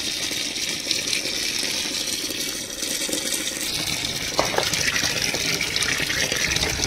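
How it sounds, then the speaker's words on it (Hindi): Water gushes steadily from a tap into a container holding wheat to be washed, a continuous close, loud splashing fill with no pauses. "अब इसमें पानी हम और भरेंगे, और फिर मैं ना इस डोलने की सहायता से जो है गेहूं को धोऊंगी"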